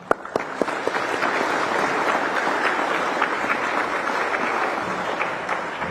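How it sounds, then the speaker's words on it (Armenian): Sustained audience applause fills the hall during a speech by Archbishop Bagrat in Hrazdan, steady dense clapping throughout with a few sharper claps standing out near the start, no talk over it. "Այո, ծափահարեք"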